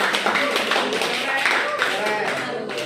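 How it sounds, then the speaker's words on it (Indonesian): A small group claps in a classroom setting, a brief scattered round of applause with voices talking over it. "Tepuk tangan dulu."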